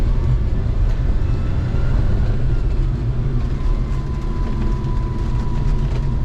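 A Suzuki Carry kei truck pulls away as its clutch is let out very slowly, a dense low engine drone and drivetrain rumble filling the cab steadily and loudly, with a faint rising tone and no one talking.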